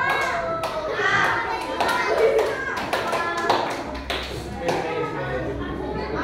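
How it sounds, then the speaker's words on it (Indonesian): Students in a classroom break into lively applause for a classmate, a dense run of close, sharp hand claps lasting several seconds with children's voices mixed in. "kasih tepuk tangan buat Anjani"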